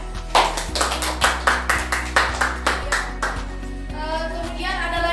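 Classroom applause for a student in a microteaching session, with a rhythmic round of group clapping in steady unison beats for several seconds before it fades into a faint voice.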